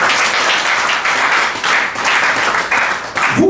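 A church congregation claps and cheers in a dense, continuous wave of applause that fills the room for several seconds and stays loud throughout.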